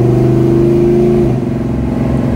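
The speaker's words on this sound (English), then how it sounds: "You hear the cars." A car engine revs loud and close on Woodward Avenue, holding a steady low drone that shifts pitch partway through, like a revving motor on a street.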